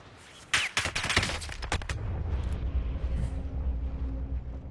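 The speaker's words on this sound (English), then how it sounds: "Somebody else is shooting us." Rapid bursts of automatic gunfire crackle in an online shooter game as an enemy team attacks, dense overlapping shots in the first two seconds followed by a steady rumbling game ambience.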